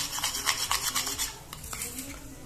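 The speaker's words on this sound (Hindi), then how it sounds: "अब इसको अच्छे से मिक्स कर लेंगे और एक फेस पैक बना लेंगे" Rose water face pack mixture being stirred in a small bowl, a close rhythmic scraping of a spoon against the sides in quick regular strokes that slow and soften toward the end.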